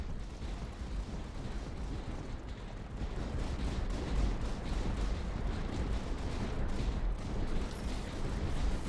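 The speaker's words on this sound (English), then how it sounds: "these mortar positions are owning" Mortar artillery fire in the strategy video game Tower Dominion: a dense, steady barrage of booming shots and blasts rolls on continuously, growing slightly heavier partway through, with no voices.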